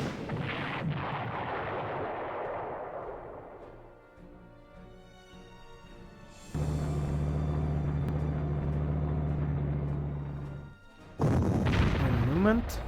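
Artillery fires on an anti-aircraft cannon in Panzer Corps, a strategy video game: a few loud booming shots separated by quieter gaps, with a steady low hum and a sharp final burst.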